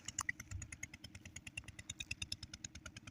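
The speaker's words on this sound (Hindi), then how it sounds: "और ये फीटर इंजन पे ये ट्यूबवेल चल रहा है।" A three-feeter diesel engine drives a tubewell pump on farmland near Chichawatni, Sahiwal, chugging in a steady, loud, rapid rhythm close by, with no talk.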